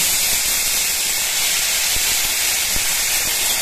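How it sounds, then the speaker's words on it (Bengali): Cumin seeds and bay leaves sizzling in hot oil for a vegetarian dish, a loud steady hissing fry with faint crackles throughout, heard close and alone. "আমি তেলের মধ্যে দিয়ে দিলাম জিরে, দিয়ে দিলাম তেজপাতা"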